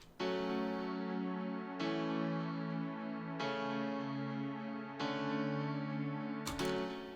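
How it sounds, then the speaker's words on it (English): A soft strings pad preset from the Nexus synth plays sustained chords that change about every second and a half, warm and layered, heard alone without talk. "This pad is soft strings."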